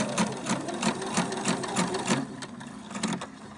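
A home sewing machine stitches with elastic thread, a steady fast mechanical chatter of needle strokes in a regular rhythm, close and moderately loud throughout with no talking.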